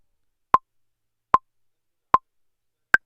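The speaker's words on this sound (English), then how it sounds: "Let's set the playback to have a metronome." Metronome clicks from Logic playback: four sharp, evenly spaced ticks about 0.8 seconds apart, the last one higher-pitched as an accent, with silence between them and no voices.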